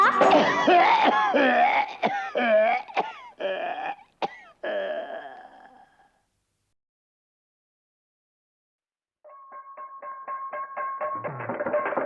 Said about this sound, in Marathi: मला लागलाय खोकला